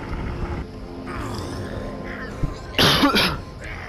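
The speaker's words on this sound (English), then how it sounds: "Sorry, I had to cough." A throaty, rough cough bursts out near the end after quieter breathy grunting sounds, close to the microphone.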